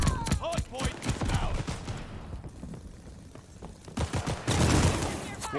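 Gunfire in Call of Duty: Vanguard, with BREN bursts among it, rattling in sharp close volleys between stretches of quieter battle noise. A voice talks over parts of it.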